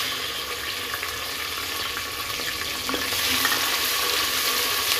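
Onions with green chillies and lemon frying over high flame for Moradabadi biryani: a steady hissing sizzle that grows slightly louder midway, close and continuous with no talk.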